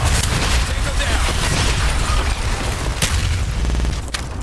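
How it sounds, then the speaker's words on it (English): Loud, dense rumbling blasts and crackling bursts fill the clip continuously, like explosions and gunfire in a chaotic battle in the video game Call of Duty. "Why does the stakeout sound like an explosion going off?"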